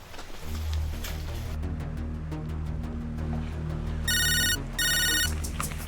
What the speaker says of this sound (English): All right, Edna, I'll call him again.